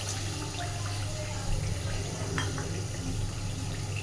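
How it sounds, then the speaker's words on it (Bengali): A little water goes from a rinsed bowl into a pot of Bengali shahi katla fish curry, a soft steady trickling and splashing heard up close over a low background hum. "সেই বাটিটা ধুয়ে সামান্য একটু জল দিচ্ছি"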